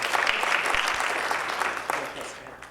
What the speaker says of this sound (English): Can we have a nice round of applause for Emma?